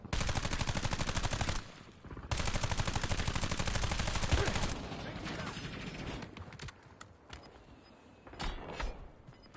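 Automatic gunfire in Call of Duty Warzone on the Haven's Hollow map comes in two long, rapid, loud bursts, followed by quieter scattered clicks and shots.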